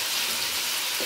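Meatballs browning in a pan give off a steady, dense sizzle with a faint crackle, close by and even throughout, with no talk.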